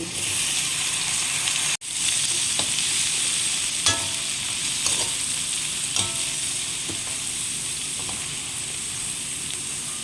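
String beans for adobo sizzle steadily in a hot pan with onion and garlic while a spatula scrapes and stirs them now and then, giving occasional sharp clicks over a constant close frying hiss, with no talking.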